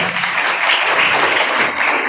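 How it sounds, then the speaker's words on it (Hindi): Loud, continuous clapping from an audience at a district KTF competition in Khed, Ratnagiri Sindhudurg, a dense close wash of many hands with no pauses across the whole stretch. "बहुत जोरदार तालियों से"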